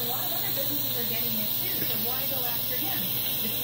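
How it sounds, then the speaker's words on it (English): Steam hisses steadily from the pressure-release valve of a pressure cooker making chicken parmesan pasta, a loud continuous rushing hiss that fills the whole stretch without pause. "when I released the pressure, some steam comes out and sometimes a little bit of liquid comes out with that"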